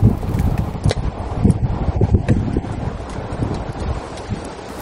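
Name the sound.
wind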